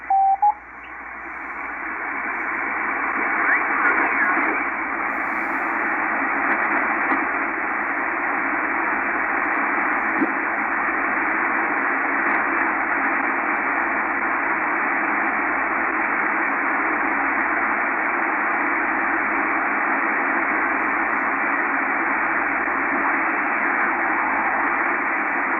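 Shortwave reception on a Kenwood R-5000 receiver with an MLA 30 loop antenna, a continuous band of hiss and static with faint tonal traces that may be Morse code lessons, steady and loud throughout.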